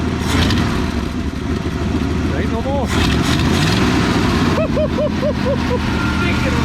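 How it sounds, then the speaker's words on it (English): A 1963 Ford Fairlane 500 with a 260 V8 idles steadily and loudly nearby, its low rumble continuous under people talking, with some clatter and a few high squeaky tones. "She's idling."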